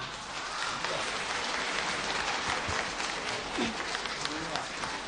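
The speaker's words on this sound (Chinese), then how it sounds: "我们用掌声有请吕老师上来讲讲国驸马好吗" An audience at a Yue opera special programme applauds to welcome teacher Lü onto the stage. Sustained, crowded clapping fills the hall evenly throughout, with faint voices mixed into the steady roar.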